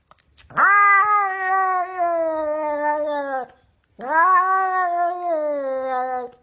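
A cat lets out two long, loud, drawn-out meows, each lasting a few seconds, separated by a brief pause.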